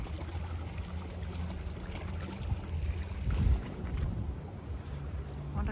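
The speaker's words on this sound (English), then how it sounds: "Wonder how long this boat takes." A boat ride in Norway, with a steady low engine rumble and wind buffeting throughout, swelling briefly midway; no one speaks.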